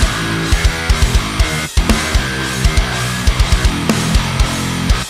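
A dense stream of randomly generated MIDI notes in REAPER plays through an instrument, forming busy layered chords with regular punchy low hits, loud and continuous with one brief gap near the middle.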